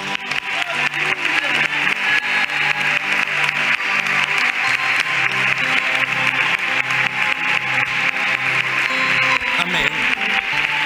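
A church congregation claps steadily in rhythm, layered over music with a repeating bass line.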